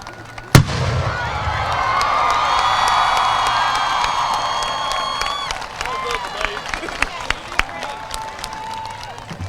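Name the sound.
cannon fired at a graduation ceremony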